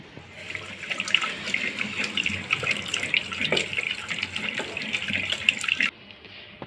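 Water poured steadily into a grinder jar of soaked batter ingredients for idli sambar, a continuous close splashing stream lasting several seconds and then stopping abruptly near the end, with no one speaking.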